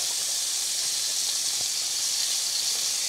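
Garlic and fish dropped into hot olive oil give a steady, bright hiss of sizzling that holds evenly for the whole stretch, close by and with no talk over it.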